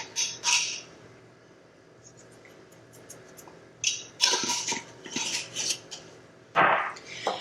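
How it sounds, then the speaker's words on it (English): Raw eggs being whisked and scrambled in a bowl, with scattered clinks and scrapes of utensil against dish that come in short bursts, louder near the end, with no talking. "I'm going to give these a good mix and scramble them up"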